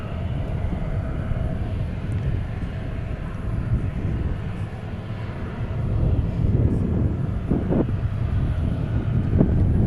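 An American Airlines Boeing 737-800 departs DFW for Minneapolis, a continuous low engine roar that grows slightly louder toward the end, with gusts of breeze buffeting the microphone.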